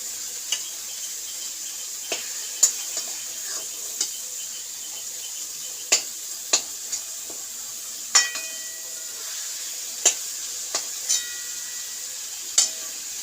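Taro leaves cooked with shrimp simmering in oil, giving a soft steady sizzle with occasional sharp clicks and taps of a utensil against the pan, no talking.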